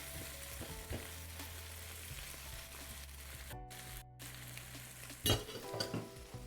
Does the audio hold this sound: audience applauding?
no